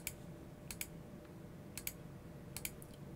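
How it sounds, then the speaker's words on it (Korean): Mouse clicks while drawing straight paths with the pen tool in Illustrator 2020: about four soft, sharp clicks spaced roughly a second apart, near and fairly quiet over a low steady room hiss. "Shift를 누르면서 클릭, 클릭, 클릭, 클릭"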